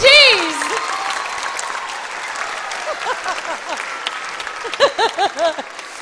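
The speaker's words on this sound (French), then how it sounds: "On peut les applaudir, s'il vous plaît" Audience applause at a televised French-language variety show: a sustained wash of clapping that starts loud and holds steady for several seconds, with voices and a few cheers rising over it near the end.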